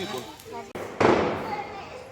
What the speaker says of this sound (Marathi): बाहेर फटाके फोडणं चालू होते, तर त्या आवाजाने मनस्वी घाबरली होती